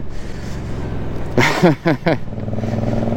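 Suzuki GSX-8S A2 motorcycle with quickshifter accelerating in fifth gear, a steady engine drone with a loud burst of rising revs and quick gear-change dips partway through, close to the rider.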